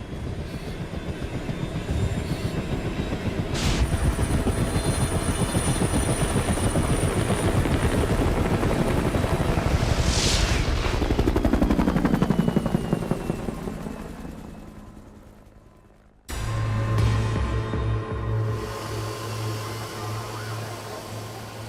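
Loud, steady rotor beat and turbine whine of a rescue helicopter airlift in the Andes, running continuously for about fifteen seconds before cutting out abruptly, then resuming with a lower droning hum.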